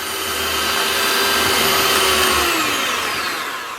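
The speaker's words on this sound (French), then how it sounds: "on va pas oublier les blancs, puisque nous allons les battre en neige bien ferme" Egg whites being whipped to stiff peaks with an electric mixer, a loud steady motor whine held throughout with a slight pitch shift partway, no talking.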